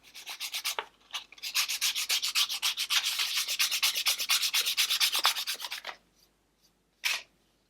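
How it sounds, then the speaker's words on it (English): Steady rhythmic sanding strokes on a wood-turned sphere desk clock, close and fairly loud, a long run of quick back-and-forth rubs that stops, then one short final pass after a pause. "Now that the hole's all drilled, the next thing I'm going to do is give it a sand"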